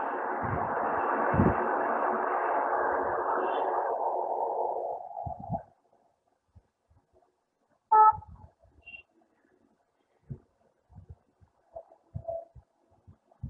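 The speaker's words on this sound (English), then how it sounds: "we decided to retain all the sounds of our urban chaos and the traffic" Chaotic city traffic with a car horn blaring continuously for about five seconds, then cutting off, leaving only sparse faint knocks and distant noises.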